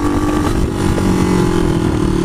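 A motorcycle engine is held at full throttle, a loud continuous buzzing roar that stays steady and close throughout, with wind noise rushing over it.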